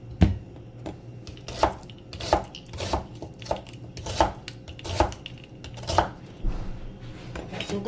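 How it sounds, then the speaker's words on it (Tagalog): Knife chopping onion on a cutting board for a fish dish in ginataan, sharp regular thuds spaced about half a second to a second apart, close and clear with a faint low background hum. "So, maghihiwa muna tayo ng may sibuyas tayo, garlic, ginger, and then lemongrass."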